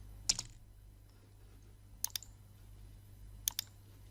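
Computer keyboard keys tapped while entering an AutoCAD drawing command: three short, separate bursts of clicks spaced across a quiet stretch, close and fairly soft over a low steady hum.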